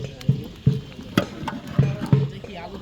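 A large pot of potato ghati being stirred for a big communal feast, with a ladle scraping and knocking in a loose rhythm of about six strokes over a steady cooking hiss; voices are faintly present in the background.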